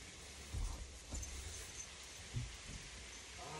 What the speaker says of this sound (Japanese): 雨すごいね